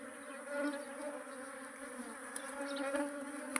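An agitated honeybee swarm gives off a dense, steady buzzing drone that holds close and fairly loud throughout, with no voices.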